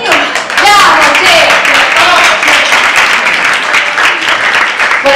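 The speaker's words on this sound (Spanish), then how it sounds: "Aplaudí nomás." An audience applauds at an a cappella café performance with a dense, steady wash of clapping throughout, while voices talk over it.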